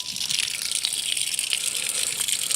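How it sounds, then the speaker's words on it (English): A camper's water pump sends water gushing outside, a steady, loud broadband rush with a faint rattle that holds evenly throughout, with no talk. "Pumps water outside of the camper,"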